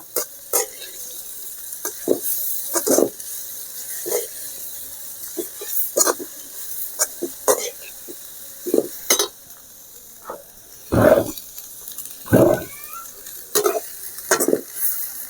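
Fried rice with extra vegetables being stir-fried fast, Chinese style, in a hot pan: repeated sharp scrapes and clanks of a ladle against metal come in quick bursts over a steady background sizzle, with no talking.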